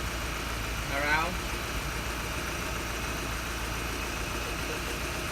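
The engine of a 1992 Honda Accord idles steadily and evenly under a constant mechanical hum, with a brief whine near the start while someone talks nearby.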